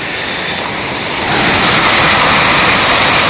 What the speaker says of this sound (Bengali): এটা মাংপু যাওয়ার পথে একটা পাহাড়ি ঝোড়া, ও নিচে জলের ধারা